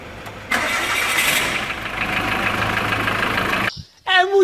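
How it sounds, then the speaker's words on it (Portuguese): A Mitsubishi Pajero Sport diesel with a 4D56 engine cranks briefly and fires up, settling into a loud, steady clattering idle close by. It cuts off near the end, followed by a short burst of voices. "Vamos escutar a melodia do motor Mitsubishi."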